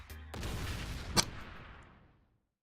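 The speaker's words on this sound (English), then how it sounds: "But those were some pretty fireworks." Fireworks explosions in the video game Danganronpa V3: a sudden booming burst followed by a long crackling, rumbling decay with one sharp bang partway through, loud and alone with no talk.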